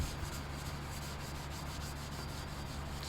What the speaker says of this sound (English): gotta get a red scuff pad and scuff this thing